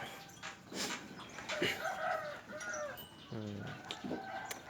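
A fighting cock at a farm crows once amid clucking and other fowl calls, moderately close, over steady outdoor background noise.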